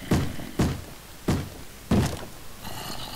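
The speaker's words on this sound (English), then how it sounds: "Where's the door pounding?" Heavy pounding on a wooden door in Minecraft modded with Feed the Beast: four loud, dull thuds spaced unevenly about half a second to a second apart, with a faint hum between them.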